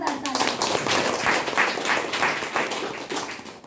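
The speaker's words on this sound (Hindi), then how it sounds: "आप सबके लिए एक जोरदार ताली।" An audience at a live program claps together in dense, sustained applause, close and steady throughout before tapering slightly at the end.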